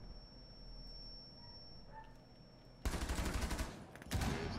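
Gunfire in the Rainbow Six Siege video game erupts suddenly after a quiet stretch, a dense, loud burst of rapid shots followed by a brief gap and another close burst.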